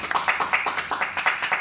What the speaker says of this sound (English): let's have another round of applause for Naomi